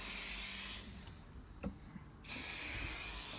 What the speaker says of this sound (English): Spray down the door.